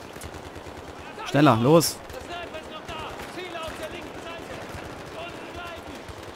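Battlefield 3 gunfire rings out in a loud burst of rapid shots, sitting over a steady bed of combat noise while a voice shouts urgently.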